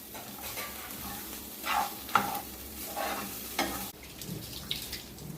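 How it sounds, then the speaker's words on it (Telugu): Red chilli powder, coriander-cumin powder, salt and turmeric stirred together in a cooking pan for stuffed brinjal curry: a few close, scraping spoon strokes over a faint sizzle, quieter in the last second. "వీటిని ఒకసారి మిక్స్ చేసుకోవాలి"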